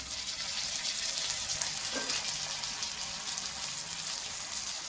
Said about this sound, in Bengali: টমেটোটা নেড়ে দিচ্ছি একটু